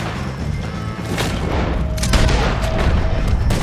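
Gunfire in the Western game Red Dead Redemption 2 during a shootout with O'Driscoll gang members, several heavy booming shots in quick succession over a noisy, rumbling fight.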